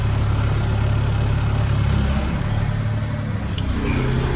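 The heavy diesel engine of a BAE Systems M1157 10-ton military dump truck idles steadily with a low, rumbling drone, close by and loud, with no talking.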